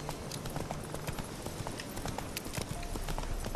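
Roach, Geralt's horse in The Witcher 3, galloping with a fast, steady clip-clop of hooves on the road, close and continuous, with no voice over it.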